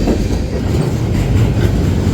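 CPKC 253, a freight train led by an all-EMD locomotive lashup, rolls past at close range with loud, continuous rumbling and rhythmic wheel clatter over the rails, no voices heard.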